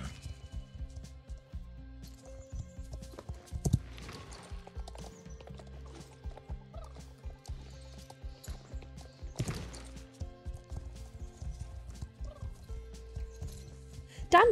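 A Lusitano horse in the Star Stable game walks with steady, soft clip-clopping hooves across a long stretch, with occasional louder bumps and faint background game ambience.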